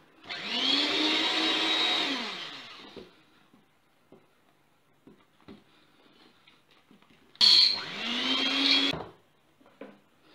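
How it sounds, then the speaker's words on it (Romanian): An electric mixer whirs through cake batter with cocoa powder, running in two loud bursts separated by quiet pauses with a few light clicks and taps between them. "Acum o să le amestecăm pe toate împreună."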